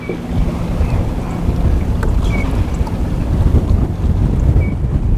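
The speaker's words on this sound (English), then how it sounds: "the wind is just completely changing directions on me right now" Strong wind roars over a boat on the water during spring fishing, a loud steady buffeting rumble against the microphone that keeps going the whole time, with no voices.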